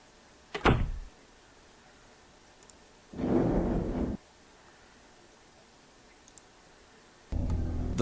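A door in the point-and-click game The Blackwell Convergence opens with a sharp click, then a sliding mechanical whir lasting about a second, and later another similar mechanical rumble begins, all against quiet background.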